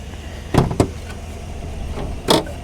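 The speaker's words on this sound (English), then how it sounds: "Let's get this hood popped here" Hood release on a 2020 Chevy Black Widow four-wheel-drive pickup with a 5.3 engine: two quick close clunks, then a softer thump and a final sharp pop as the hood unlatches, with no talking.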